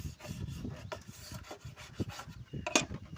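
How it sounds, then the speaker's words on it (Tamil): Cotton waste soaked in thinner rubs old polish off a wooden surface in quick, repeated close-up wiping strokes, a soft scraping rasp with no talking. "இப்போது தின்னர் போட்டு ஊற வச்சுட்டு நூல் வேஸ்ட்டில் தொடச்சா வருது"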